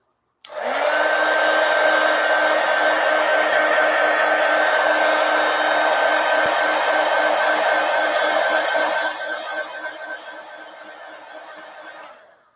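A hair dryer blows steadily and loudly up close to dry a colored page, a constant whine with a rough airflow rush that holds for about twelve seconds before switching off.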